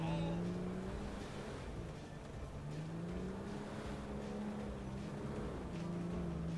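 Car engine driving in the video game GTA V, a faint, steady motor drone with slight rises and falls in pitch as if shifting load, running continuously without pause.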